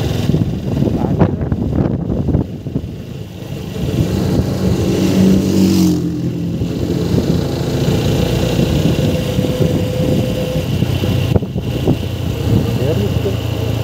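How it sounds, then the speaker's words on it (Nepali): A motorcycle engine runs loud and close along a rough mountain road in Mustang, a continuous rumbling drone with shifts in pitch as it revs and accelerates, while a voice talks over it at times. "अघि स्पिडको आवाज सुन्नुभयो नि बाइकको तपाईँले"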